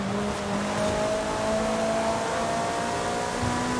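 Ferrari race car in a Forza Horizon 5 circuit race, its engine holding a steady, loud droning note with sustained harmonic tones and no breaks throughout.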